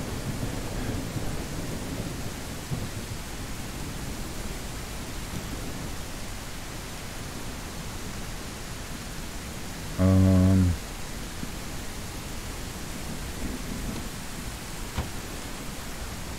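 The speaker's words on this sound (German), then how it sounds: "Es regnet ja immer noch." Steady rain with a low storm rumble in the survival game Mist Survival, a constant even hiss throughout with one brief louder blocky burst near the middle.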